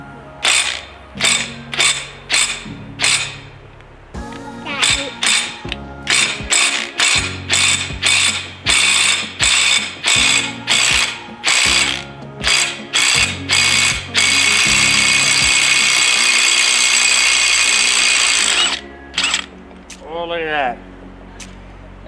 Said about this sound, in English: Just come right off of the torque wrench.